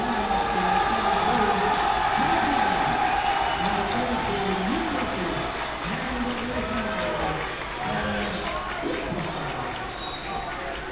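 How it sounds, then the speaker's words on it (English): Crowd of fans cheering at a high school varsity basketball game, SPHS against Marist, a steady broad roar filling the gym for the whole stretch, easing slightly toward the end, with voices mixed into the noise. "As the fans are cheering"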